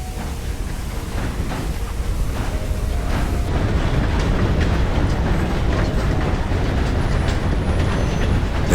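A train runs in the video game Red Dead Online, a continuous loud rumbling roar of wheels and engine that swells after a few seconds and holds steady, with faint rhythmic rail clatter and no talk.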